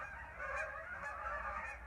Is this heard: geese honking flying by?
yes